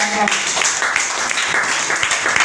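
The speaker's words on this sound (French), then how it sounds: "Est-ce que tu peux acclamer, acclame." A congregation at a church service applauds with a busy, continuous patter of clapping, mixed with voices calling out over it.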